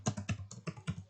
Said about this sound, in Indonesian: nanti kalian bisa lanjutkan mengetik ke bawah nama-nama siswa